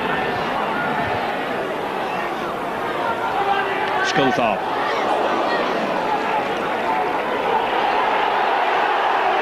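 Warrington rugby league crowd in a Challenge Cup tie against Leeds, a dense steady roar of murmuring and chatter with restless swells, while a commentator talks over it.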